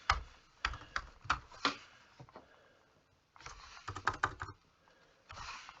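Close, quiet typing on a computer keyboard comes in two uneven bursts of clicks and taps separated by a short lull.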